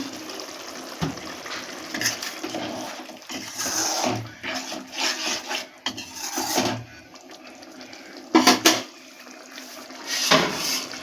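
Water poured into simmering chicken curry masala in a pan, heard as irregular splashing and sizzling bursts with scraping and stirring sounds in between, fairly close.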